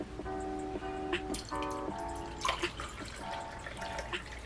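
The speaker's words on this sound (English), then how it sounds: "Let me go ahead and pour this back into here." Liquid candle wax poured back into a container gives a thin trickling, dripping stream with small splashy bursts and faint ringing tones, close and continuous for a few seconds without talking.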